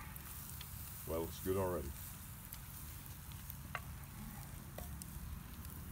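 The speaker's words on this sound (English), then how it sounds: "just enough to get that pan sizzling, because cast iron holds the heat" Onions sizzle in a cast iron pan for French onion soup, a steady, moderate frying hiss throughout, with a person speaking briefly over it.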